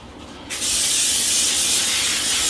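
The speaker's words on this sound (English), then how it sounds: "So just going to spray with a little bit of oil." After a brief quiet moment, a can of cooking oil spray coating a mini cupcake tin releases a loud, steady hiss that continues without break.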